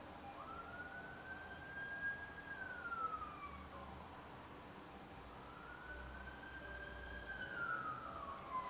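Emergency vehicle sirens in New York wail far off in two slow rising-and-falling sweeps, faint over a constant low rumble of city traffic and hum.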